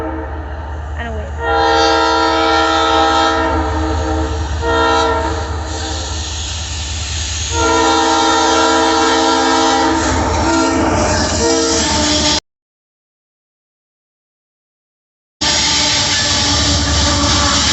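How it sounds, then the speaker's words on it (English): A CSX locomotive rumbles close by while its horn blasts repeatedly in long chords, the engine drone continuing under and between the blasts before a brief silence. "Sounds like the Milwaukee Road engine that we rode on."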